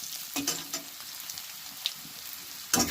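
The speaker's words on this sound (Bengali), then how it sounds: "এই আলুটা সিদ্ধ করে একটু তেলে ভেজে নিচ্ছি।" Boiled potatoes frying in oil, a steady close sizzle punctuated by a few crisp spatula scrapes and taps, with no talking.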